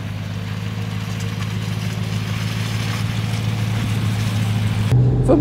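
A 1935 Horch 850 Sport with a large-displacement engine climbs a steep grade under load, its deep, steady drone slowly building in loudness before a shift in tone at the end.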